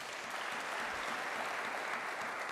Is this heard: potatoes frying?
no